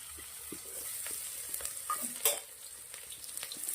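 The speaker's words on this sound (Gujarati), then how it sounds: "ડુંગળી આપણે શેકાય છે" Onions fry in hot oil with popping mustard seeds, cumin and asafoetida in a pan, a continuous bright sizzle broken by a few scraping stirs and small clinks of a spoon, heard up close.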